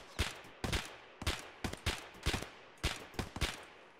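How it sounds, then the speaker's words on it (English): Gunfire from the game Escape from Tarkov crackles in quick bursts, with roughly ten sharp loud shots in irregular pairs and clusters over a few seconds, no talk. "Is that you shooting?"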